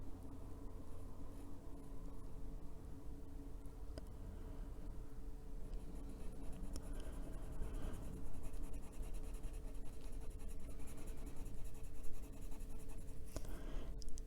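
A pencil shades over black areas of an adult coloring book page with steady, close scratchy strokes that continue without pause, faint and dry.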